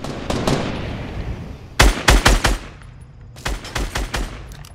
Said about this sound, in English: But I hear someone else shooting an actual gun.